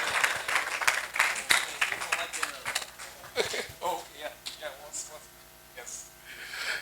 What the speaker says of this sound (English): Ladies and gentlemen, please a round of applause for General Ike Omasanda Nwachukwu as he comes forward.